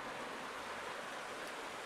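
Yoro River in the Yoro Valley, Chiba, flowing beneath a red bridge, heard from above as a faint, steady, even rush of water with no other sounds.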